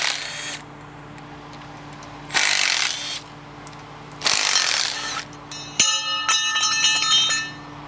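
Small 10 mm bolts are backed out of a guard on a Can-Am Maverick R in three bursts of power-tool whirring, each close and loud, with steady hum and ringing metallic clinks between and after.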